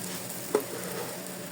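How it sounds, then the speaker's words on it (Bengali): Polao rice frying in a pan makes a soft, continuous sizzle with one brief stirring scrape in the middle. "এখন এই পোলার চাল দিয়ে দিছি এখন এটা একটু ভাজা ভাজা করে"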